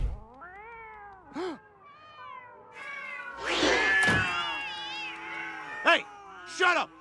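Cartoon cats meow repeatedly in a cat cafe from the animated sitcom Family Guy, with several drawn-out, rising cries at close range and a brief thunk partway through.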